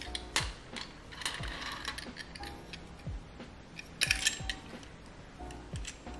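Ratcheting, clicking mechanism of a silicone nail practice hand's mount being turned and tightened, with several short close taps and a brief louder burst of clicks near the end, no talk.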